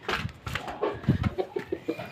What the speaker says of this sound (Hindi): ये है हमारा नया वाला मुर्गा